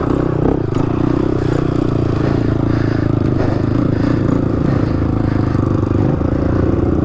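A 2014 Honda 450 dirt bike held wide open in third gear, a loud, sustained engine roar close by with a steady rasping drone and clattering edge throughout, no talk.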